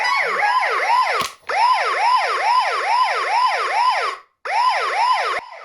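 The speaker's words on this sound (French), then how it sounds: "la notification est quasi instantanée, tout comme le déclenchement de la sirène" A Eufy home security alarm siren set to maximum volume wails in a fast rising-and-falling electronic whoop, repeating steadily with two brief cut-outs, loud and alone.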